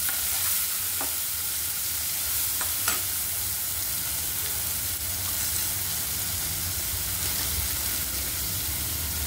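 Chopped onion sautéing in a pan for a lasuni palak dish, a continuous soft sizzle and crackle with a few faint scrapes of stirring, steady and moderately quiet throughout.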